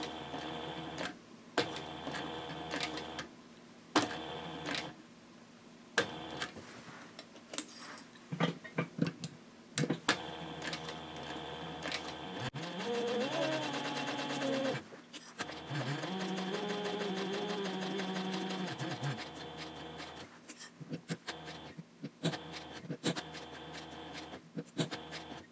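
A sewing machine stitches a handbag around a curve: short stop-start bursts of needle clatter, then two longer steady runs that rise and fall slightly in pitch, close and clear with no talking.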